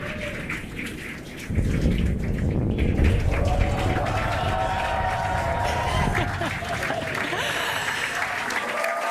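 A large outdoor crowd erupts into sustained cheering and applause as a SpaceX Falcon 9 booster lands at Landing Zone 1, a dense wash of clapping and shouts that swells suddenly and carries on loudly.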